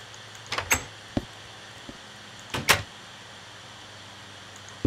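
A wooden door in a video game opens and shuts in two quick pairs of clunks and creaks, followed by a few faint single knocks, crisp and close against a quiet background.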